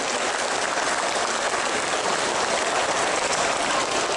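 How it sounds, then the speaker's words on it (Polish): A crowd at a LEGO brick festival at a trade fair gives LEGO Masters winners a dense, even burst of applause that sounds almost like heavy rain, steady and close throughout with no talking. "Wielkie brawa, proszę Państwa"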